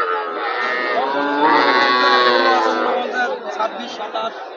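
Cattle moo loudly and repeatedly at the Panchbibi cattle market, drawn-out lowing calls over a background of crowd chatter and nearby talk.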